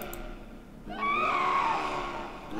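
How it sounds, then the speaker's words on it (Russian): A ghostly scream from the horror game Delaware St John: The Curse of Midnight Manor, a wavering, rising-and-falling wail that swells after a quiet moment and holds for over a second against low ambient rumble. "Эти крики."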